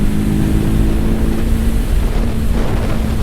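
A 2024 TVS Apache RTR 310 motorcycle cruising at around 100 km/h near 6800–6900 rpm, a loud, steady engine drone with a fixed hum and constant wind rush, unbroken throughout.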